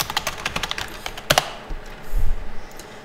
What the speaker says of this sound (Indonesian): saya ketik dulu bullish pinen